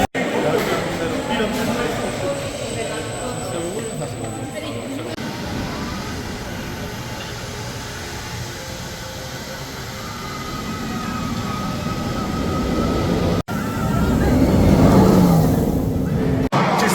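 Red Force launch roller coaster at Ferrari Land, a steady loud roar of wind and rushing track noise building to a strong surge near the end, with voices under the rumble.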